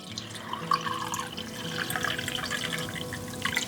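Apple cider vinegar pours steadily into a pot of corn relish mixture, a soft continuous liquid trickle with small splashes, close and fairly quiet.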